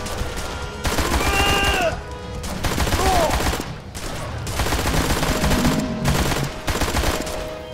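Bursts of rapid machine gun fire in the crime shooter game Blues and Bullets, several loud volleys separated by short pauses, with brief speech beneath.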